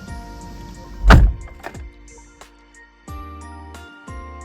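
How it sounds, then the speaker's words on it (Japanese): A Mitsubishi Outlander PHEV car door shuts with a single loud, close thunk and a brief metallic ring. Quieter clicks and small knocks follow, with no one talking. "ドアを閉めます。"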